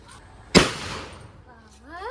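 A single sharp, loud blast from a carbide gun cracks out close by and then fades quickly, followed by excited voices rising up afterward.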